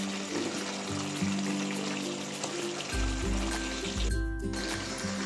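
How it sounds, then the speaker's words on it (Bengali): Soft sizzling in a pan as fried spice mix is stirred into cooking village-style desi chicken, steady and close, over a low rumbling background. "ভাজা মশলাটা আমি ভালো করে এখানে মিক্স করে নেব।"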